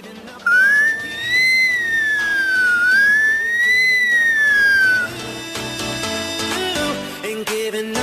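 A 12-year-old boy imitates an ambulance siren with his voice, a loud, clear whistle-like tone rising and falling in a slow wail for several seconds before cutting off into background music.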